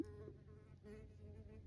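A bee buzzes steadily and close, a continuous droning hum with slight wavering pitch throughout the short moment, heard alone without any talking.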